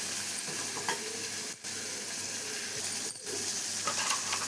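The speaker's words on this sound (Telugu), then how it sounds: "కాసింత పసుపు వేసుకొని ఇలాగా కలుపుకొని కాస్త మగ్గనిచ్చుకోవాలన్నమాట." Turmeric being stirred into a pan of gongura (sorrel leaf) curry with curry leaves and cumin, a steady sizzle and hiss with soft scraping stirs and a few light clinks, close and continuous with no talking.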